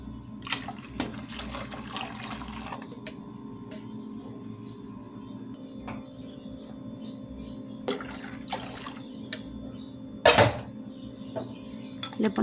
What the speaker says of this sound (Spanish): Y le ponemos agua, aproximadamente un litro de agua, que no nos quede tan espesa.